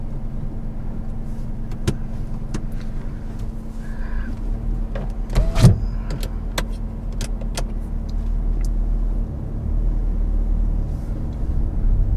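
Hyundai i20 Magna hatchback with a 1.2 litre petrol engine driving on the road, a steady low interior rumble and road noise throughout with a few brief clicks and knocks, no talking.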